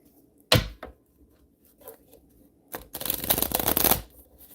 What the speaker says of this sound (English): we're going to shuffle up Kuan Yin and see what we get here